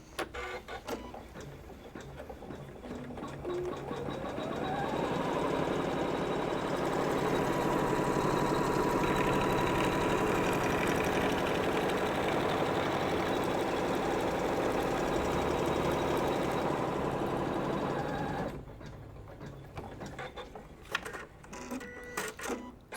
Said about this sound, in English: So that just stitched the back to the front